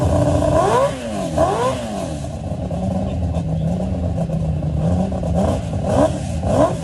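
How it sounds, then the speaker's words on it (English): Nissan VK56 V8 engine fitted with an 8-to-1 exhaust collector, revving loudly with rising and falling sweeps, then settling into a steady drone before a few more quick blips near the end. "a VK56 that actually has an 8-to-1 collector setup"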